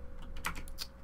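Quick taps on a computer keyboard, a short burst of a few close, crisp keystrokes during beginner coding work.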